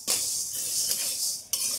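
A spoon scrapes and stirs mashkolai dal as it dry-fries in a pan, giving a continuous hissing rasp with a sharper stroke near the end. The sound is close and fairly soft.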